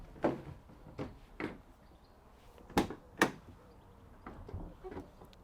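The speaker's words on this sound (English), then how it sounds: "doors lock in the 90-degree position, and then you can just uncouple that and it will go to 180 degrees" The rear doors of a 2017 Ford Transit Custom 2.0 TDCi 290 Limited L1 H1 van give a series of separate clunks and latch knocks. There are about eight sharp thuds, some louder than others, spread irregularly and close by, with no talking.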